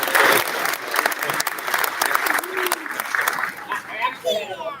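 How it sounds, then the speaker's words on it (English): A wonderful audience at an arts celebration at Saint Matthias bursts into applause, a dense wash of clapping that fades and thins toward the end with some voices mixed in. "Give yourselves a round of applause."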